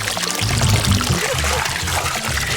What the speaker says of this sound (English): We've got ourselves a water fountain.